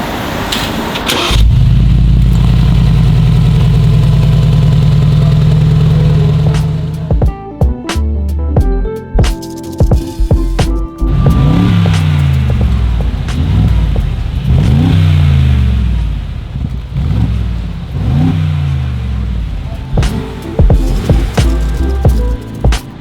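A 2019 Mercedes-AMG G63 fires up with a loud startup flare that settles into a high idle, followed by a series of sharp, repeated throttle blips that rev and fall back, close and loud.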